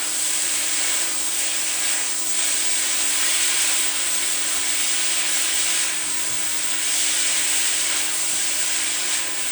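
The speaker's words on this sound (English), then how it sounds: "We're just looking to give this a quick sear as it is anyways" Chicken searing in a lightweight cast iron wok on an induction cooker, a steady broadband sizzle and hiss holding at close range throughout with no talk.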